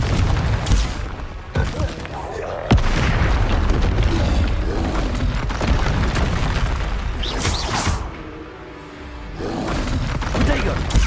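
Repeated booming blasts from Confringo spells in Hogwarts Legacy, loud explosive bursts recurring over a dense combat background with talk throughout.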